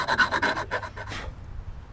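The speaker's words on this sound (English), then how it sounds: "Just kind of going through and beveling it so it's a little bit easier to get in." Hand file rasping along drilled holes in the rear door of a 1961 Land Rover Series II, beveling the edges; about eight quick close strokes in a steady rhythm for over a second, then stopping.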